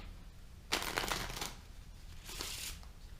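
Playing cards being shuffled by hand in two quick riffling bursts, close and fairly quiet, with no talking.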